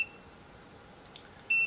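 A VEVOR 12-inch foldable oscillating standing fan gives short electronic beeps when switched on by remote, one near the start and another at the end, with quiet room noise between.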